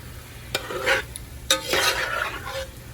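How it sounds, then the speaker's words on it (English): A spoon scrapes and stirs through jambalaya in a pot, two distinct stirring strokes with clinks against the metal over a low sizzle. "Give it one last good stir."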